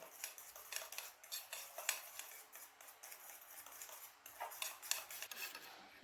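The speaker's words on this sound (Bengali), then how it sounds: "এবার আমি সব কিছুকে খুব ভালো মতন গুলে নেব আর একটা ঘন ব্যাটার তৈরি করে নেব" Thick batter for chili pakora being mixed by hand, with soft, quiet scraping and clinking of a utensil against the bowl in a steady uneven rhythm.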